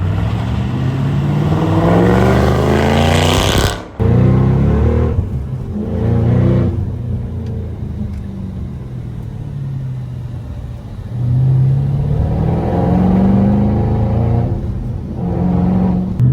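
A 2014 Shelby GT500's supercharged V8 roars and revs hard as the car accelerates, deep rumbling rising in pitch through gear changes, loud and close.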